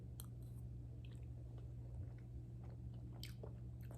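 A child chews a mouthful of cooked quinoa close up, with soft wet bites and squishy mouth sounds over a steady low background hum.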